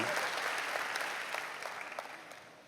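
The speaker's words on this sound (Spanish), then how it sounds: "Dele un aplauso al Rey que lo mira así." Church congregation applauding during a sermon, a soft, distant-sounding wash of clapping that gradually fades over nearly three seconds.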